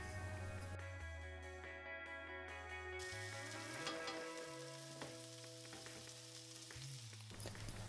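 Wild boar heart fries in a cast iron pan with a steady, loud, close sizzle that runs continuously, with brief shifts as the meat is moved or stirred.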